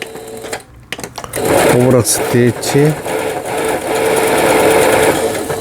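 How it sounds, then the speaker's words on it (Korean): A repaired Singer Confidence 7463 sewing machine runs in steady, fast stitching bursts, fairly close and loud, with a voice talking briefly early on. "기계 소리 좋습니다. 타이밍이 딱 맞아 들어가니까 소리도 좋고."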